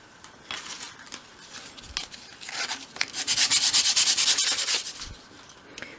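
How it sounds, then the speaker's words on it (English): 180-grit sandpaper rubs wood in quick back-and-forth strokes, sparse at first and then a loud, rhythmic run of rasping scrubs before it slows again. "just using some 180 grade sandpaper"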